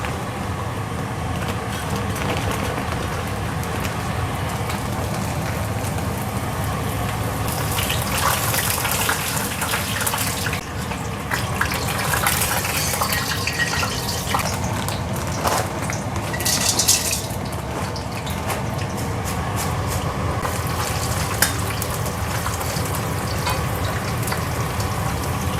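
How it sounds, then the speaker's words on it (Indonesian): Cassava crackers (kerupuk singkong) fry in hot oil with a steady, loud, close sizzle and bubbling hiss that swells briefly midway and continues throughout. "Kita goreng."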